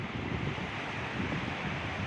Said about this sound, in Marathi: हे पहा इकडे पाणी पहा कसं पळतंय